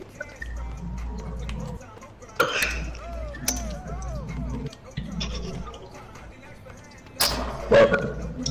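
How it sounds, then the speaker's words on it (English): A man coughs and clears his throat in short bursts amid casual talk, with a steady low background hum between them. "Man, I'm already coughing today."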